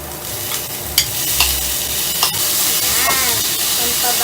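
Tomatoes sautéing in a hot pan for tuna spaghetti, a steady loud sizzle with scraping stirs and a few clinks near the start.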